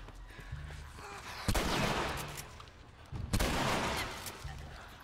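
Gunfire in The Last of Us, two loud shots about two seconds apart, each with a short echoing tail, over quiet game ambience.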